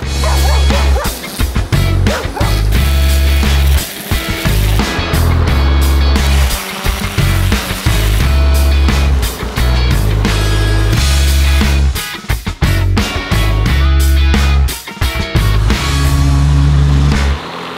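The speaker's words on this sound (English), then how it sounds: "let's go weed whack" Gas weed whacker trimming a lawn at a remote off-grid cabin in Canada, a loud, close, whining engine that cuts out briefly and restarts in uneven bursts.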